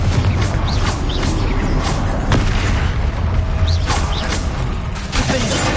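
Confringo fire spells burst in Hogwarts Legacy as dense, booming blasts over a steady layer of game noise, with several distinct impacts through a busy battle soundscape.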